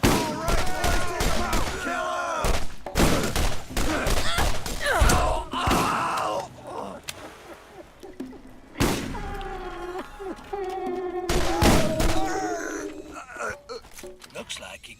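Gunfire from the video game Borderlands comes as loud bursts of rapid shots and thuds, broken by pauses, mixed with game character voices and a player talking over the action.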